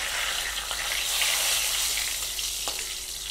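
Dry red chilli and a bay leaf hit hot oil with panch phoron, giving a loud, continuous hissing sizzle that stays even for a few seconds, with a faint stir or tap near the end.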